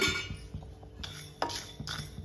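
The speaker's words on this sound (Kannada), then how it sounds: "ನೋಡ್ರಿ, ಇವೆಲ್ಲ ಮೊದಲು ಮಸಾಲೆ ನಾನು ಹುರ್ಕೋತೀನಿ." Whole spices, including pieces of cinnamon, dry roasting in a pan, with a steady metallic scrape and clatter of a utensil stirring against the pan, close and moderately loud, and no talking.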